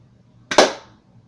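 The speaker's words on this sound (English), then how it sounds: "It gives a pretty healthy pop, these little smaller marbles." A pocket shot slingshot firing a small marble gives one sharp, close pop with a brief decaying tail, alone in a quiet setting.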